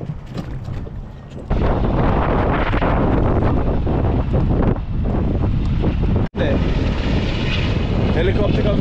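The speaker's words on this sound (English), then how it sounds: "Helicopter comes to pick up water." Loud rotor thrum of a helicopter passing overhead to pick up water near Simon's Town, mixed with heavy wind buffeting on the microphone, with a brief dropout near the end.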